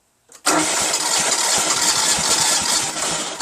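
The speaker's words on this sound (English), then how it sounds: "Here's the ignition. We're going to do it." A John Deere STX30 lawn tractor, with a repaired starter solenoid, cranks and fires up abruptly, then runs in a loud, steady near roar for the rest of the clip.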